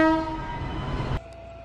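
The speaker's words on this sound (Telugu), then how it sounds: "ఈ బుజ్జి ట్రైన్." A small train on the line to Repalle rumbles close by while its horn blares a loud, sustained tone that cuts off abruptly, leaving the fainter running noise.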